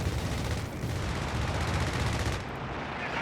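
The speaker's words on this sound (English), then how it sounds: "Here comes the air support." Air support strafing armor in the video game Company of Heroes 3, a dense continuous burst of rapid gunfire and explosions that stays loud and busy throughout, easing slightly near the end.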